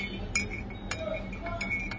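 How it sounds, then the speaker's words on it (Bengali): A spoon stirs tea in a glass cup, giving a few bright, light clinks at irregular moments over a quiet room. The sound is close but soft, with no talking. "একটু নাড়িয়ে নিতে পারো"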